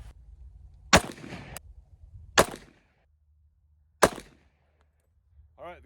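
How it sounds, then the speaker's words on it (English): An FNX Tactical .45 ACP pistol fires semi-wadcutter rounds: three sharp, loud gunshots spaced roughly a second and a half apart outdoors, each with a short ringing tail, followed by a faint voice. "we're gonna shoot 3 more shots with the semi-wad cutter"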